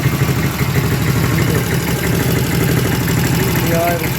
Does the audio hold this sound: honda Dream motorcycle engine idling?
yes